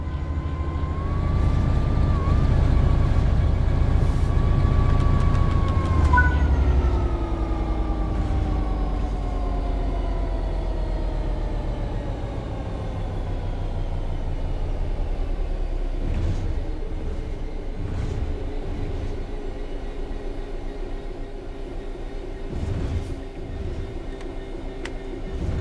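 A train coasting on level ground in Train Sim World 3, with a steady low rumble and a slowly falling whine as it gradually loses speed, continuous and fairly loud throughout.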